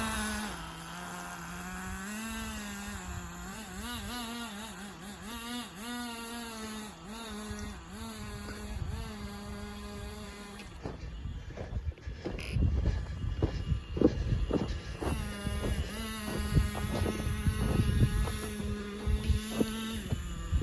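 Small engine of an RC snowmobile running rich at the low end, a buzzing drone that wavers in pitch at first, then a rougher, louder stretch of rattling and wind-blown noise, close to the microphone.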